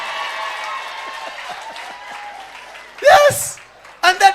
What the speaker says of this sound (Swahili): Piga makofi kwa Yesu.